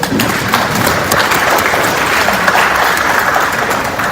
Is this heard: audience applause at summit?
yes